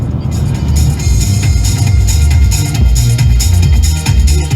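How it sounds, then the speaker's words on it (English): Music from an upgraded stereo in a VW Lupo with new front speakers and a subwoofer in the back plays loudly, with heavy pulsing bass and vocals filling the cabin throughout. "I've changed the stereo in it. Yeah. I've changed the front speakers and put the sub into the back"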